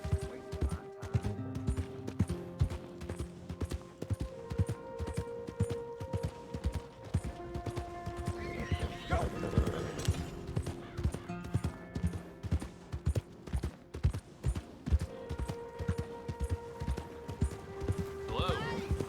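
Horse hooves clip-clopping at a steady trot in Red Dead Redemption 2, a continuous rhythmic beat running throughout under game music and spoken dialogue.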